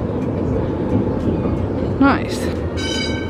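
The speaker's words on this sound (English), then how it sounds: "Oh yeah, that's not really it, that's a train." A train rumbles past near a cable car stop in Wellington, New Zealand, a steady broadband roar with a brief squeal, heard under light talk.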